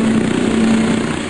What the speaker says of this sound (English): This is the sound of an earlier experimental version of a stealth helicopter.